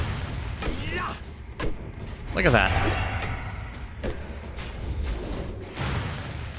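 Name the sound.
explosions from World of Warcraft game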